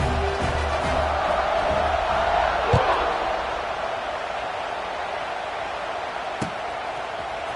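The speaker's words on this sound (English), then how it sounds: "this crowd now ready to get behind them" Football stadium crowd at kickoff, a broad sustained roar of many voices with a thud near the start, easing slightly and continuing as a steady murmur beneath a commentator.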